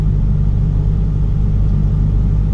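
Dodge Challenger R/T 392 muscle car idling with a deep, steady exhaust rumble, loud and close, with a heavy low throb and no voices.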